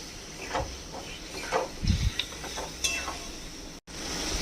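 Spice paste fries in oil for omelette curry while a spoon stirs it, giving a close, steady sizzle with scraping strokes and soft bubbling pops, briefly cut off near the end.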